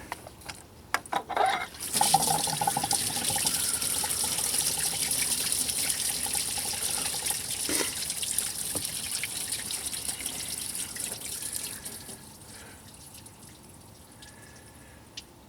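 Coolant gushes out of a 2014-2018 GMC Sierra 4.3L V6 as its water pump is pulled off, a steady close splashing pour lasting about ten seconds before thinning to a trickle, with no talking.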